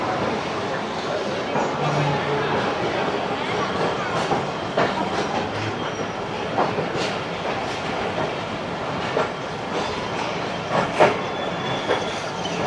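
A Pakistani passenger train pulls away from a Karachi Cantt platform with a steady, loud rumble, rhythmic clickety-clack of wheels over rail joints and occasional faint wheel squeals throughout.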